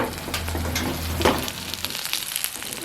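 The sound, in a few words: tempering spices sizzling in oil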